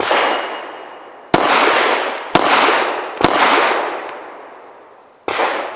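Five sharp pistol shots from a Full Conceal M3D folding Glock, loud close reports spaced irregularly, each followed by a long ringing echo, with a faint metallic clink of brass between shots.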